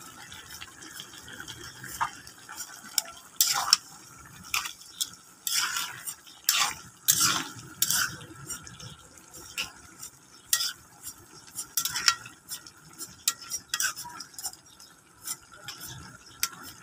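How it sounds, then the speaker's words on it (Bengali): A spoon scrapes and clatters in a pan of mixed vegetable curry cooked with dried fish, irregular stirring strokes over a faint sizzle, close and fairly quiet, with no talking. "আমি একটু নেড়ে করে দিচ্ছি।"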